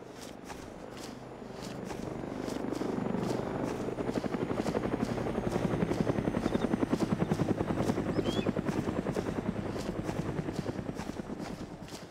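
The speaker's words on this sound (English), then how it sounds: "Now I'm pretty sure this chopper was scouting around looking for me after I shot at that car" Helicopter in the DayZ video game flying overhead, a rapid steady rotor thump with engine whine that swells louder toward the middle and then slowly fades.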